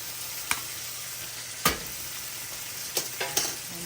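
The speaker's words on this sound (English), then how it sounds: "And I'll give that a nice little mixing so that my pasta takes on that flavor of the butter sauce." Pasta being tossed in a pan of garlic butter wine sauce, a soft steady sizzle with a few sharp scraping or clattering stirs, close up and with no voices.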